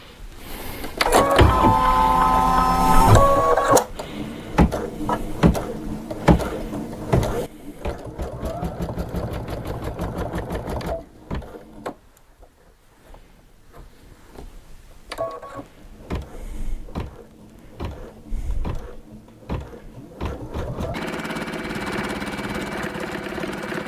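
An embroidery machine stitches bold embroidery with heavy 12-weight thread on a small quilt, whirring in rapid mechanical bursts that start, pause and resume. It is loud at first and fainter later.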